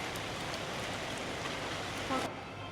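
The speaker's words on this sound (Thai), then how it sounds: "ฝน ไม่หยุด" Steady rain falls throughout during a rainy-season trip in northern Thailand, a dense continuous hiss that cuts off abruptly near the end, with a brief faint tone just before.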